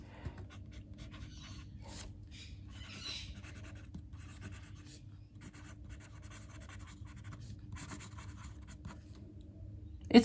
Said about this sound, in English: do a left-handed and right-handed writing sample with both the left-handed nib and the standard medium here